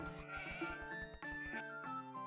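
Sheep in the Age of Empires II video game bleat in a sustained, tonal cry over a steady rhythmic game backdrop, with no talk.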